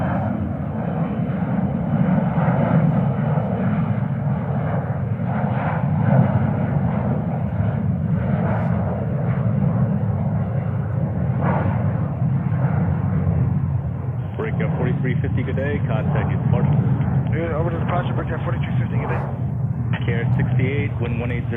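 A Brussels Airlines Airbus A330-300 on arrival at JFK, its engines giving a steady broad roar that holds loud and continuous throughout, with radio chatter layered over it.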